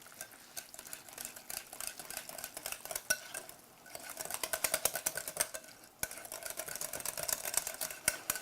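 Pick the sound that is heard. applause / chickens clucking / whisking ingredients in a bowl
whisking ingredients in a bowl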